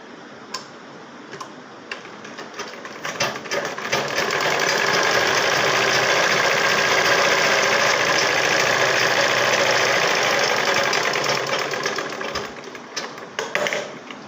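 A sewing machine stitches the hook side of a saree blouse, running at a steady loud whir with a rapid ticking needle beat. It speeds up into a long continuous run and then slows back to separate ticks, with no talking.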